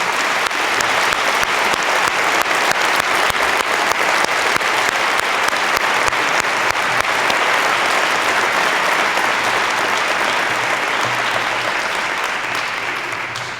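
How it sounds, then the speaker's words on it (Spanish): Sustained, loud audience applause for the Peor para el Sol collective at a Medal of Gold and Favourite Son ceremony in Úbeda, dense clapping rolling on evenly for many seconds and tapering slightly at the end. "para quienes pido un aplauso"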